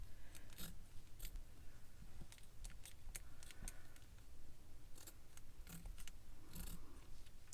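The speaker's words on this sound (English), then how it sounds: "My poor scissors don't cut fabric as well as they used to." Scissors cut unbleached fabric in a few short, crisp snips spread across the stretch, over a steady low background hum. The blades sound a little dull and worn.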